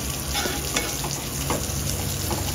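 Prawns frying in green masala on a medium-high flame, a steady loud sizzle that carries through the whole stretch while a spoon stirs and scrapes through the pan.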